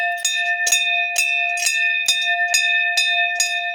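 A metal temple bell at a Gorilla deity shrine rings in an even rhythm, about eight bright, ringing strikes with sustained tones between them, loud and close with no voices.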